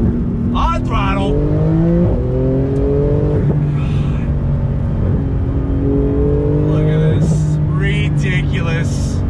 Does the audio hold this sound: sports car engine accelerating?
yes